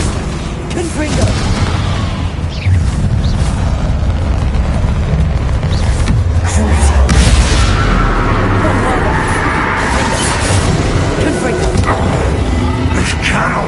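Repeated Confringo spell explosions in the Hogwarts Legacy video game, heavy booming blasts rolling continuously under game dialogue and a dense, loud battle soundscape.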